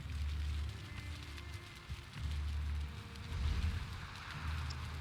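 Rain falls in the video game Valheim, a soft, steady patter beneath a deep rumbling undertone that swells and dips in waves, fairly quiet throughout.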